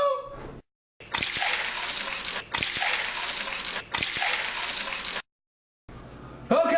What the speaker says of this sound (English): you're gonna fill these 3 glasses with 250 milliliters of water.